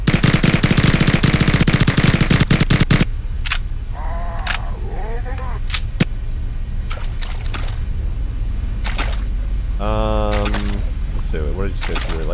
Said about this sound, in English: Classic Halo SMG that was never seen.